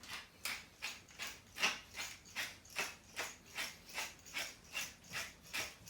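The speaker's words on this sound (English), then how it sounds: "I have the pepper mill here." A pepper mill grinding pepper, about a dozen evenly spaced ratcheting crunches in a steady back-and-forth rhythm, close and fairly quiet, with no talking.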